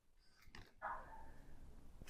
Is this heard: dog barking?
yes